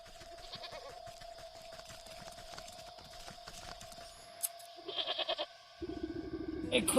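A goat in the video game Wytchwood gives a few short bleats near the end, following a long stretch of quiet game sounds with a steady tone and soft clip-clop-like footsteps.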